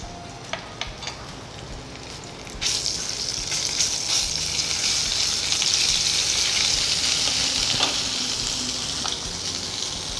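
Ginger paste hitting a hot mustard and cumin seed tempering: a quiet pan with a few clicks suddenly erupts into a loud, sustained hissing sizzle, with occasional stirring taps, close up and without talk.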